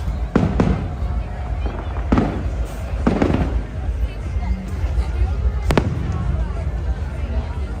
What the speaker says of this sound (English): We actually might do it with fireworks.